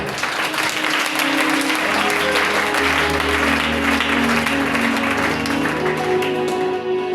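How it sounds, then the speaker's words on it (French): A church congregation claps and applauds for Jesus in a steady, dense roar that holds loud and unbroken throughout, with a low musical hum beneath. "Acclamons pour Jésus."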